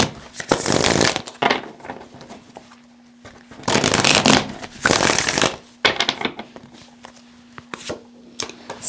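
A tarot deck is shuffled up close in several sharp, crisp riffling bursts separated by short pauses, with a faint steady hum underneath.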